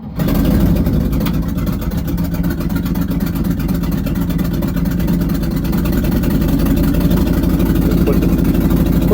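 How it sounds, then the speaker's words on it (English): A 1958 Chevy crane rollback truck engine runs at a steady, loud idle with a rapid low chugging pulse, its exhaust ticking from a leaking manifold where the pipe bolts on; no talking. "Okay, I'll fire it up here, let you hear it run. Now it's got a leaking manifold where the pipe bolts onto the manifold."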